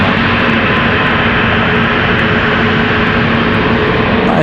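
A Frontier airliner takes off at Raleigh-Durham airport, a loud, steady broadband roar of jet engines that stays constant throughout with no voices.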